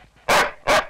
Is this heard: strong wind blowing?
no